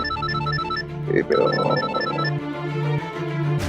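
A telephone rings with a steady electronic trill, repeating without pause, close and fairly loud, with some background noise.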